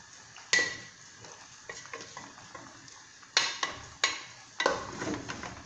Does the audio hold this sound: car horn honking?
no